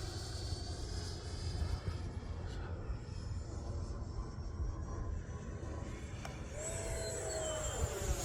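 Electric ducted fan RC jet flying overhead, a continuous whooshing whine at moderate distance that rises into a higher, louder pitch near the end as it makes a fast pass.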